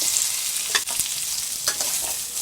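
Onion and cashews sautéing in butter and oil for mushroom butter masala, a steady close sizzle with a few sharp scrapes of a spoon stirring against the pan.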